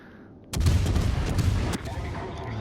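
Heavy naval guns from a cruiser firing at a battleship in the naval combat game World of Warships: a sudden loud booming salvo that keeps rumbling, then a second sharp blast, with the roar fading slightly afterward.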